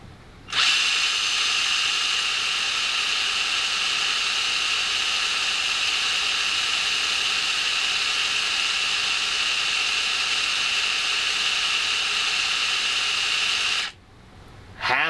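Traxxas TRX-4 RC crawler drivetrain running on a bench, a steady high-pitched motor and gear whine held at constant level for about thirteen seconds, close and loud, cutting off abruptly near the end.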